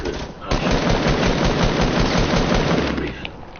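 A light machine gun fires in a playground-mode build battle video game, a loud sustained burst of rapid automatic shots filling most of the moment before tapering off.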